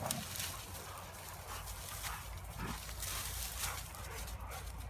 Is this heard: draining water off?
no